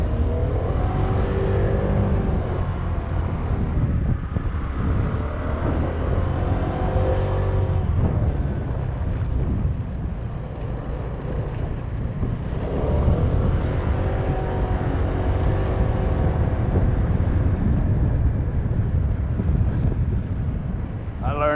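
A vehicle engine runs steadily and loudly throughout with a constant low rumble, while people talk over it.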